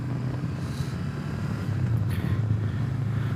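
Exhaust note of a 2020 Honda CB500X with a small 471cc parallel-twin engine, a steady low droning rumble out on the road with wind buffeting, rising slightly in loudness midway.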